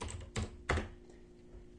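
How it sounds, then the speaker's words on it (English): Several sharp keystrokes on a computer keyboard as a command is typed, close and crisp, spaced unevenly with quiet pauses between them. "type the current path command and you will see it's in the current path"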